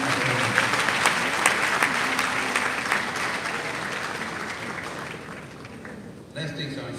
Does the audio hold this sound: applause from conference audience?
yes